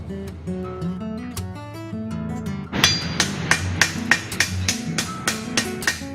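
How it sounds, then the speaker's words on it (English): A farrier's hammer, round side, strikes a horseshoe being modified into a French roller, in a steady run of ringing, clanging blows, picking up into a quicker, regular rhythm partway through. "using the round side of my hammer"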